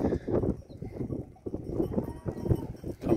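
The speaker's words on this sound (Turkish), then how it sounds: "Çünkü aha keçiler geldi." Goats arriving at a Yörük herder's sheep and lamb farm in rural Turkey make a steady, close shuffle of hooves and jostling animals, continuous over a few seconds, with faint voices in the background.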